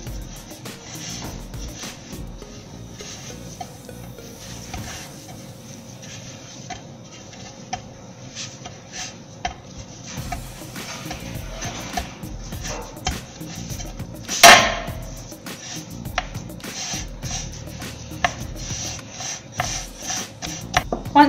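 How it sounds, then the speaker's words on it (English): Chocolate cookie dough for pinwheel cookies is worked and pressed by hand on a floured surface: soft, steady rubbing and squashing held at a low level, with one sharper tap partway through. "just knead the mixture a bit as well"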